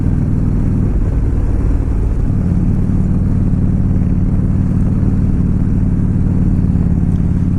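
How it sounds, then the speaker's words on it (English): A 1997 Harley-Davidson motorcycle engine idles loud and close, with a continuous low, throbbing rumble that stays steady throughout. "This bike actually runs, this bike runs great."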